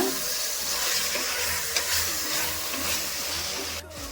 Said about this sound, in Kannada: ಮಶ್ರೂಮ್ 1 ನಿಮಿಷ ಫ್ರೈ ಮಾಡ್ಕೊಂಡ್ರೆ ಸಾಕು.